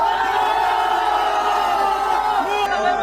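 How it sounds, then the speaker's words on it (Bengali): A wedding family chanting a Modi slogan together, with loud crowd voices in unison. The chanting is sustained and close and fills the whole moment. "পুরো বিয়ের পরিবার একসঙ্গে মোদি মোদি মোদি স্লোগান দিতে শুরু করে"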